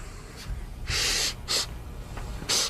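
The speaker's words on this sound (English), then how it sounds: "Doing a full body sniff." A person sniffing another person up and down the body, heard as four sharp, loud nasal bursts spaced unevenly across a few seconds over a quiet room background.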